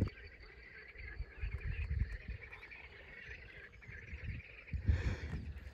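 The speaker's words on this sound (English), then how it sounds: "Can you hear the frogs?" Frogs croak outdoors in the grounds of a French château, a steady low chorus of pulsing calls with insects and some birdsong mixed in, swelling briefly louder near the end.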